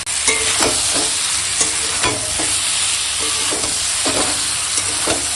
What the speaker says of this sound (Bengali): আর দেবো স্বাদ মতো লবণ দিয়ে এখন কষাবো।